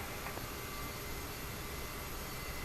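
In a flight simulator game, an airliner takes off from Berlin runway 07 right, with a faint, steady jet roar like broadband hiss running evenly throughout.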